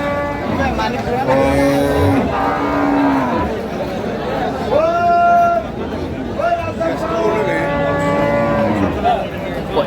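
Cattle at a livestock market in Comilla moo repeatedly, long drawn-out calls from several animals, close and loud over a constant crowd babble of people talking.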